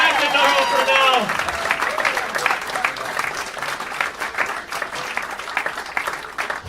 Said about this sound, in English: All right, let's applaud.